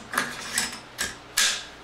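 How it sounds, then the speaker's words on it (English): An AR-15 bolt carrier group slides back into the upper receiver with four sharp metallic clacks and scrapes, spaced roughly half a second apart, close and fairly loud with no talk. "we're going to reinstall the bolt carrier group."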